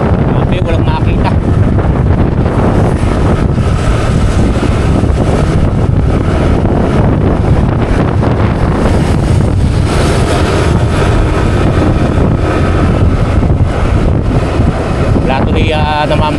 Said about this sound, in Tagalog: Ang malakas na hangin, lakas ng hangin